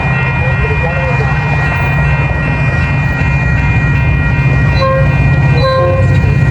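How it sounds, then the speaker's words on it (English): A Metra Northwest line commuter train arrives at Arlington Park station with a loud, steady rumble and a sustained horn-like tone, while faint high squeals rise toward the end. "Northwest train number 643 to McHenry is now arriving."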